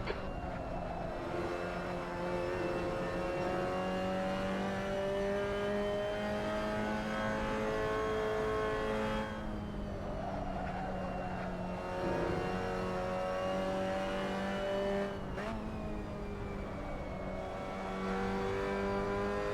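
Mazda MX5 race cars lapping Brands Hatch in Assetto Corsa: rising and falling engine tones sweep up through the gears, with revs dropping and climbing again in a continuous, close, droning whine.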